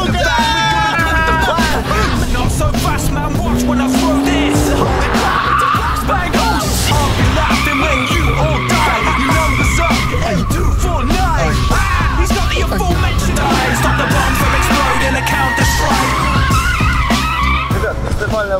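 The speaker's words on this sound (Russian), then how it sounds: "Когда этот флажок появился, отжимаешь левую ногу с педали тормоза, и машина стартует." BMW 760M launched from launch control, tires skidding and squealing under a roaring engine for a long sustained run, with a voice in the car.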